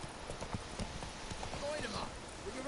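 Hooves of Roach, the horse in The Witcher 3 video game, clip-clopping in a steady trot under a constant bed of ambient noise, with voices talking over the hoofbeats.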